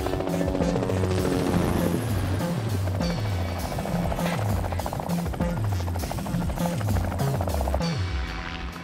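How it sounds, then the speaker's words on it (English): Loud, steady helicopter rotor chop thumping overhead in the Arctic, a continuous pulsing drone with a whining engine layer and no voices. "Once the helicopter is in the vicinity where Brutus is to be released, the pilot circles the area"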